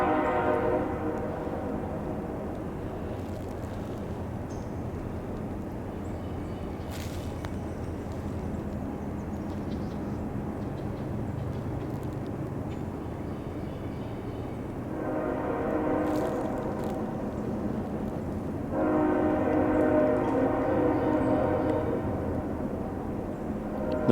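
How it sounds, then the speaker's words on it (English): A long train horn sounds at a distance, echoing broadly across a floodplain, with a rumbling low drone and repeated horn blasts swelling later on. "Those horns just echo all through this floodplain around here."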